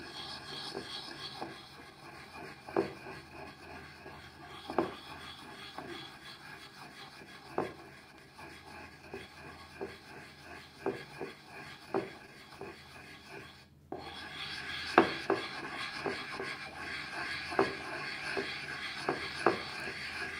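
Saffron and a fragrant substance being rubbed and ground by hand, producing repeated dry rasping strokes with occasional sharper scrapes, close and steady throughout with no talking.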